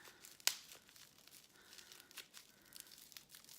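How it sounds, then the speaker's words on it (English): Scissors snip and tear at tightly wrapped enamel pin packaging, a sharp cut followed by faint crinkling and tearing sounds, quiet and close. "I'm gonna use my scissors just to snip the end there to try and get it out"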